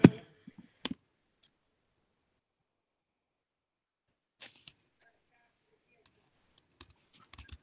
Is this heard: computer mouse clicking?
yes